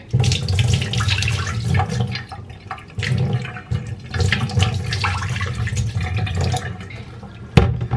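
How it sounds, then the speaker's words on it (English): Water from soaking sea moss is dumped out into a sink, a loud, steady splashing pour that runs for several seconds with brief dips and a sharp splash near the end. "dump out this water."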